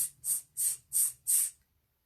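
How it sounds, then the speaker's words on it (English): Five short breath hisses spaced evenly about a third of a second apart, close and fairly soft, done as a singing breathing exercise, with silence after the last. "what ideally you're going to do is you're just going to hiss and then relax"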